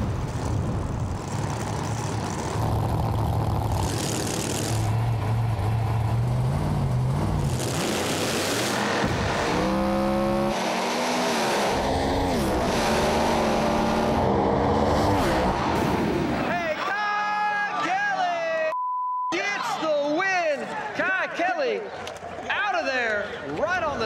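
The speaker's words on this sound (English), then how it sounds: "it was a hell of a drag race" Street Outlaws drag race cars roar at full throttle down the strip in a continuous loud engine drone with shifting pitch, while someone talks over it throughout.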